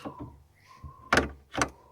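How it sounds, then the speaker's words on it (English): Back doors of a house opened, heard as a couple of soft clicks followed by two louder, close rattling thumps of latch and frame in quick succession. "I'm just going to open up the back doors."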